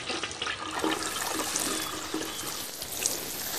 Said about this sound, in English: I flush the toilet.